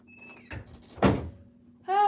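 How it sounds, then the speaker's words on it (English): A cat paws at a door indoors on a chilly December day, giving a single dull thump and rattle near the middle, with quieter scuffs before it and a brief voice at the end. "The cat is pawing at the door."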